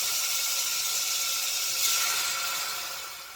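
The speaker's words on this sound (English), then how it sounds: "I'm going to go ahead and put in some beef broth" Beef broth pours steadily into an Instant Pot, a loud, continuous splashing rush of liquid that swells briefly midway and then tapers off slightly, with no voices over it.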